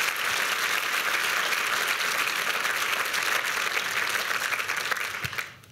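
Audience applause at a feminist democracy symposium in Austria, steady dense clapping from a large indoor crowd throughout, tapering off at the very end.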